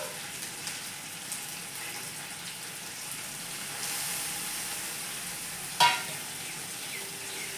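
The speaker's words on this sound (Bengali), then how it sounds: "নেড়ে নেব।" Potatoes with green chillies, turmeric, salt and coriander powder stirred in a frying pan: a soft continuous sizzle with light scraping strokes of a utensil, and one sharper clink near the end.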